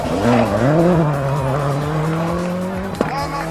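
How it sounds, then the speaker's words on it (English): A rally car attacks a corner hard at a hill-climb event in Barbados, its engine note rising and falling loudly and continuously up close, with a brief sharp burst near the end. "Roger Duckworth from England quickly won the crowd's approval with his aggressive attack on this corner"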